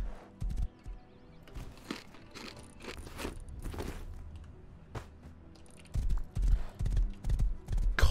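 Rhythmic video-game horse hoofbeats thud in quick clusters, softer in the middle and growing heavier and louder toward the end, with crunching ground underfoot.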